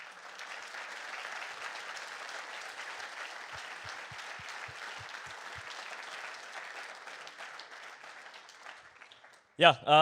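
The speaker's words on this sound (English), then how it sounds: "Please, a round of applause for all the people that are not on stage but worked like" At a racing team's car rollout event, an audience applauds steadily for several seconds before the clapping fades, and a voice then starts speaking at the end.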